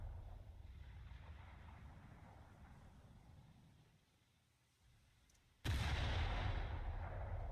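Naval gunfire in War Thunder: a low wind-like rumble fades almost to quiet, then a single sudden, loud cannon blast roars out and carries on booming to the end.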